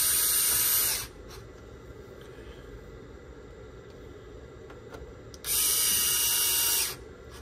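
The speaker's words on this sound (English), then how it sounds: "I'm using automatic screwdriver." Automatic electric screwdriver driving screws into a circuit board, two short high-pitched whirring bursts about a second or more each, separated by a quiet pause with faint handling noise.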